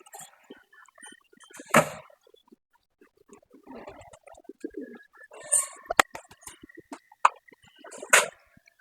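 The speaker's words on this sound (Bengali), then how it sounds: "অনেক কবুতর বাইরে আছে এখনো ভিতরে ঢোকে নাই" Pigeons in a loft give soft, low cooing calls at intervals, mixed with scattered wing flutters and light scuffling sounds, fairly close and faint.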